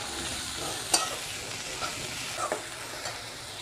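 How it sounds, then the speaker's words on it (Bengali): Spices frying in a pan for Bengali egg batter masala: a quiet, steady sizzle with a few sharp stirring clicks from a utensil against the pan. "এবার এগুলোকে ভালো করে ভেজে নিতে হবে"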